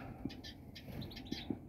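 Greenfinches, siskins and other finches in an aviary give faint, scattered high chirps and short tweets over a low background murmur.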